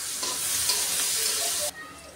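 Onions and green chillies hit a hot pan together, a brief, bright hiss of frying that sizzles strongly and then drops off abruptly near the end.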